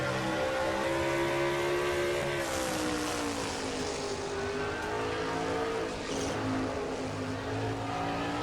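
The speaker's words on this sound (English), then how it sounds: "Hearing how much they play with the throttle going through the turns here." A race truck engine roars continuously in a Truck Series race at Pensacola, its pitch rising and falling as the throttle is worked through turns, loud and close with no talking.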